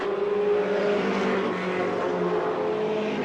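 Race cars circling a racetrack, a dense continuous roar of several engines droning together at a steady, loud level, no voices.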